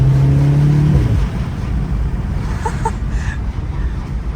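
A Volkswagen Golf 7R with its turbo engine accelerates from inside the car with the window open, a rising engine note that drops away after a second into a loud, rough, rushing drone.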